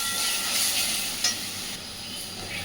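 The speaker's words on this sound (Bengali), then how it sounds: "খুব ভালোভাবে এবার মশলা মিশিয়ে নেব।" Pointed gourd (potol) frying in a pan as hot chili powder and spices are stirred in, a dense continuous sizzle with a brief scrape of the spatula partway through, close and steady with no talking.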